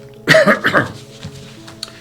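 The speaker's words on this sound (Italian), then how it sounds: "c'ho un po' di tosse perché fa caldo" One short, sharp cough close up, followed by a few faint breathy throat sounds in a quiet room.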